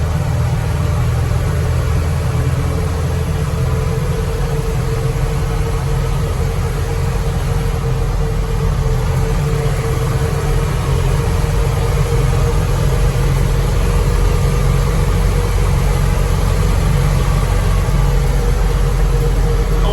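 A heavy truck engine drones steadily at a low pitch for the whole stretch, governed at 2,800 RPM, a loud, continuous rumble with road and wind noise and no talking.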